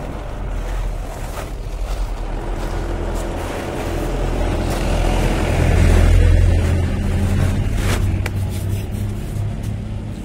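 A motorbike engine drones steadily with a low hum under heavy wind rush, swelling louder around the middle before easing back, with no voices.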